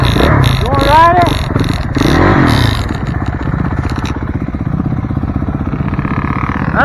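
A motorcycle engine runs and revs nearby with a loud, rough drone and some clattering, while people talk loudly over it.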